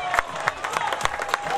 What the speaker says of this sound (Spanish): fuerte, fuerte el aplauso para el Centro de Formación Profesional